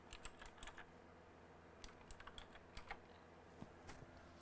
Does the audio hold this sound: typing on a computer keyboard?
yes